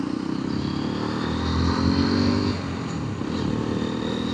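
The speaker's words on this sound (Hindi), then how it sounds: "अब मैं मोटा मोटा 20 की स्पीड से शुरू कर रहा हूँ।" A Hero Xpulse 210 motorcycle rolls along at low speed, its engine a steady, close drone that swells slightly midway before settling back.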